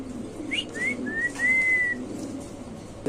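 A pigeon calls close by, giving a few short rising whistled notes and then one longer drawn note, with faint background noise and no talk.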